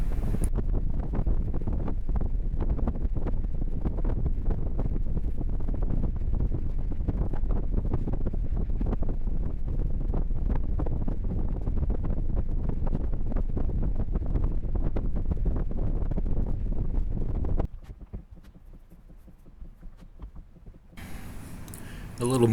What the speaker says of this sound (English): I do apologize for the fan noise in the background.